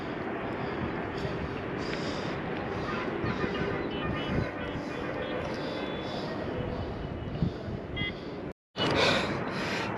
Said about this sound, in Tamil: முடியல, மூச்சு வாங்குது.